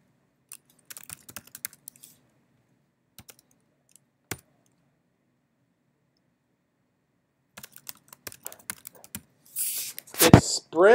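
Keys on a computer keyboard clatter in short, scattered bursts of quick taps with long silent gaps between them, fairly close and crisp, before a voice starts talking at the very end.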